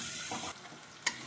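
Tomatoes, coriander powder and turmeric sizzling in a pan for egg bhurji, a brief, soft, close frying hiss with a light stir and a small clink at the end.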